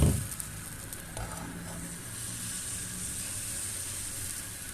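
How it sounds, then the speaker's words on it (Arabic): Crepe batter sizzles in a hot oiled pan as a steady, close hiss that holds evenly throughout after a brief soft knock at the start. "نبداو نخويو لي كريب ديالنا بحال هكا"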